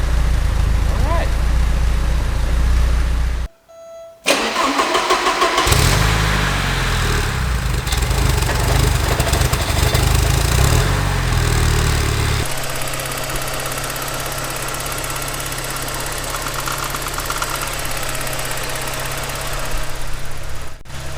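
A Porsche 924 engine idling after a vacuum leak repair, a close, loud, steady low rumble with a brief cutout early on and a shift in tone midway, with some talk over it.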